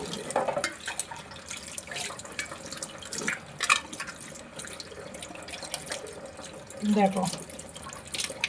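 Brass puja utensils are rinsed under a running tap, a soft continuous stream of water with occasional splashes and clinks, quiet and close, while someone speaks briefly.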